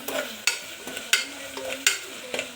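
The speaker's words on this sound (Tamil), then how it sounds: "கல்லுப்பு லைட்டாக சேர்த்து நீங்கள் நல்லா வதக்கிக்கோங்க ஃப்ரெண்ட்ஸ்" Tomatoes sautéed with rock salt in a pan give a soft sizzle broken by about five sharp scraping stirs of a spatula at roughly half-second intervals, close and fairly quiet.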